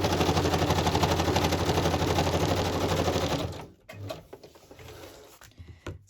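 A sewing machine running a straight stitch down the centre of a mini paper journal, a fast, even mechanical chatter close by for about three and a half seconds before it stops, followed by faint handling noises.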